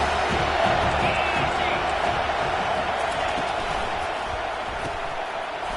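A packed football stadium crowd at Miami versus Notre Dame roars in a steady, dense wall of cheering and shouting that holds loud throughout, with occasional whoops rising out of the din.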